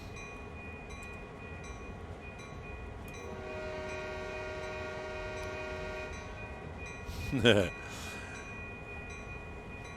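A Canadian National train in Train Sim World 2020 on the Oakville Subdivision rumbles steadily as a sustained horn blast sounds for a few seconds, followed by a brief louder burst, with a voice speaking briefly.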